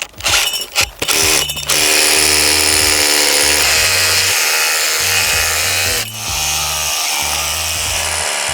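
A loud power drill whirs steadily for several seconds, briefly stopping and restarting midway, after a few short bursts at the start.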